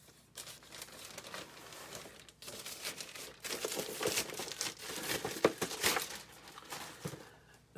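A plastic package is cut and pulled open at close range, with soft crinkling and crackling that grows busier and louder partway through, in a quiet room.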